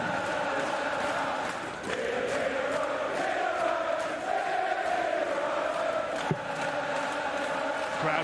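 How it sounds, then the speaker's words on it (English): A darts crowd cheering for Peter Wright during a world championship final roars in a sustained, dense wall of voices and chanting, loud throughout with a brief dip and swell. "Crowd right behind Peter Wright,"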